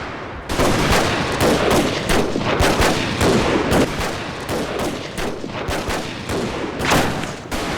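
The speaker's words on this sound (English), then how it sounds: "Captain Lord Beresford brought his Gardner gun from its position at the rear of the square and opened fire on the charging Mahdists." Rapid bursts of Gardner gun fire in a Total War battle against charging Mahdists at Abu Klea, loud rattling volleys repeating irregularly with dense overlapping shots throughout.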